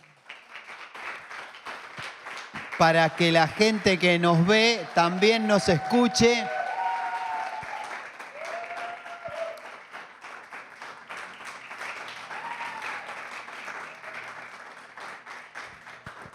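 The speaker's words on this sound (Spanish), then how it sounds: "Si tienen desocupadas sus manos, le damos un aplauso al Señor" Churchgoers clap at a Sunday service while someone speaks over the start of the applause. The clapping continues as a softer, diffuse background wash under faint music-like tones.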